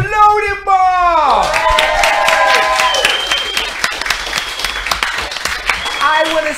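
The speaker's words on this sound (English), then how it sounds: "I want a live round of applause for Loading Bar" Crowd at a video games contest breaking into loud applause with whoops and shouts, dense clapping held throughout while a raised voice rides over the top.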